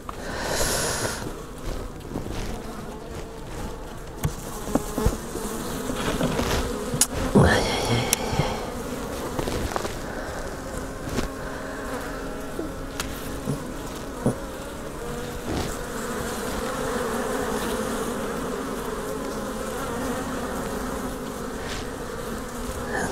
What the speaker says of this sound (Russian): Вот они, пчелы.